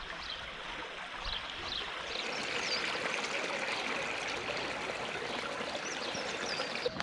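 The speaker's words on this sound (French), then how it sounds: "Sympa, hein, ce petit cours d'eau." A small stream flows outdoors in the Artois uplands with a steady, even babble and trickle, close and continuous, with no talking.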